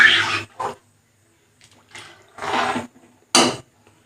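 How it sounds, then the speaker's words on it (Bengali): Water is poured into a cooking pot for bhuna khichuri, heard as several separate splashing bursts, close by and moderately loud, with quiet pauses between them. "আরও জল দিয়ে দিলাম।"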